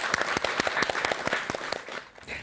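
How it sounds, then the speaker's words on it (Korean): A small studio audience claps steadily for a couple of seconds during a Buddhist talk-show interview, individual hand claps distinct and close, tapering near the end. "박수"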